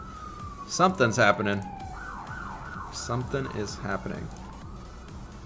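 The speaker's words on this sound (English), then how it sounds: "Sorry for the siren in the background, guys." An emergency siren wails outside in the background, rising and falling in steady sweeps while someone talks over it nearby.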